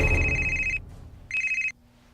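A telephone bell rings in two loud, bright bursts with a short gap between them, close and clear, with no talking over it.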